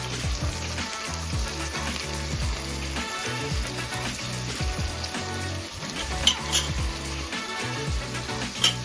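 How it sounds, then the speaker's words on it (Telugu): Chopped tomatoes and potatoes frying in a pan for vegetable pulao, a continuous bubbling sizzle with repeated scraping and clattering of a spoon stirring through it. "ఇప్పుడు ఇవన్నీ కూడా బాగా కలుపుకుని ఫ్రై అవనిద్దాం"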